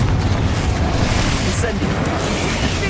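A Confringo spell blast in the Hogwarts Legacy video game, a loud, rumbling, broadband boom that fills the whole moment with sustained explosive noise.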